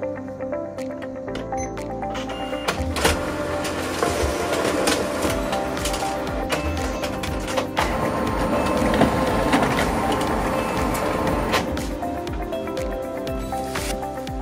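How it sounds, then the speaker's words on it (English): An OKI MB562 printer's automatic document feeder pulling and scanning pages, a steady mechanical whir and rumble with repeated clicks and brief pulses running continuously at close range, with no talk. "Now, let's move on to the ADF speed test."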